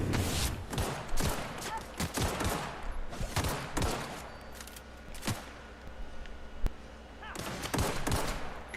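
Dense, loud bursts of gunfire in a PS4 video game, rapid shots crowding together with brief lulls before the firing resumes.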